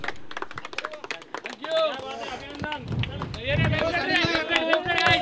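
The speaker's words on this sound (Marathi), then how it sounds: "जोरदार टाळ्या वाजवायच्या." An audience at a cricket league prize distribution ceremony claps in a brisk patter of hand claps, with someone speaking loudly over and after it.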